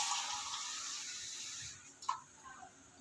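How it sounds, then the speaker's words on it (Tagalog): Water is poured into a pot of chicken for cooking, a soft hissing splash that fades after a second or so and ends with a few faint drips and clinks. "Dagdagan ko pa guys yung tubig."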